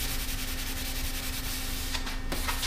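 Hand sanding a long wooden piece for a DIY hydroponic garden tower, a steady, even rubbing hiss that carries on without pause, close up and alone.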